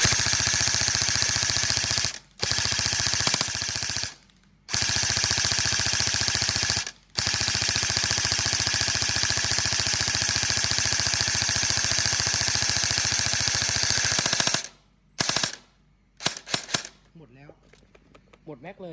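A Double Bell HK416 toy rifle, model DB0812, fires on full auto in long, steady buzzing bursts with a rapid mechanical rattle, loud and close, broken by a few short pauses before trailing off into scattered clicks.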